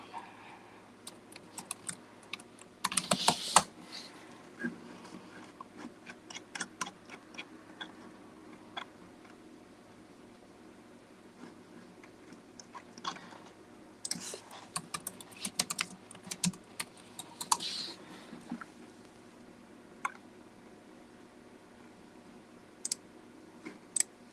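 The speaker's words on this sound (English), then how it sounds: "I'm probably not typing anything in right" Computer keyboard typing in bursts of clustered key clicks with pauses between, at moderate distance over a quiet room background, no one talking during the clip.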